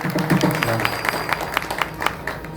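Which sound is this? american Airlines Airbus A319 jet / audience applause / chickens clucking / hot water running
audience applause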